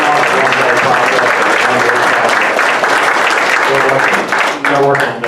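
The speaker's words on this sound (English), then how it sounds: "So I have to ask that you give Linda and Richard a round of applause." A crowd applauds loudly and continuously, a dense wash of clapping that holds steady before starting to thin near the end.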